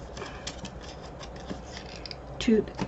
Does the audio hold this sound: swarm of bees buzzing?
no